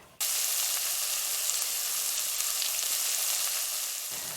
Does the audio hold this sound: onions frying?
yes